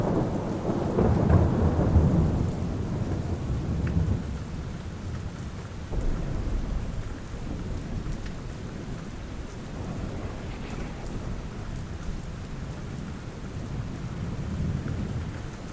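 Steady rain falls on surfaces while a loud, deep roll of thunder swells in the first couple of seconds, followed by further low rumbles fading in and out beneath the continuous close patter.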